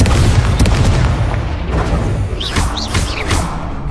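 A Confringo spell explosion in Hogwarts Legacy on PS5 lands with a loud, close boom, followed by thudding blasts and crackling debris amid steady rumbling combat noise.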